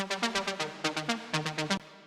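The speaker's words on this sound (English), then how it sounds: "this is a saw and triangle waveform." A buzzy synthesizer voice with a saw and triangle wave tone plays a quick rhythmic run of short plucked notes, clear and alone, ending abruptly.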